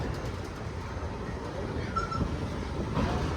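Jan Shatabdi Express train rolling across the Bharathapuzha river bridge, heard from inside as a steady broadband rumble and rattle with faint squeals, continuous and fairly loud throughout.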